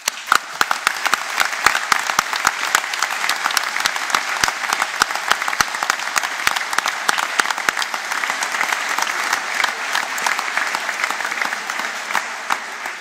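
Sustained audience applause at a 2019 university graduation ceremony, dense steady clapping from a large crowd filling the hall throughout.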